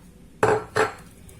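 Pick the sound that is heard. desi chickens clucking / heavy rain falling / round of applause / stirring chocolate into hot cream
stirring chocolate into hot cream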